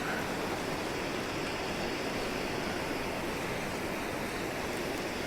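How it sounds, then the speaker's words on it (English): A loud waterfall in a survival video game roars as a dense, unbroken rush of water, steady and close throughout with no talk over it. "I couldn't hear him because of the waterfall. It was too loud."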